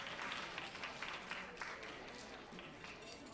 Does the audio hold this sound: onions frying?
no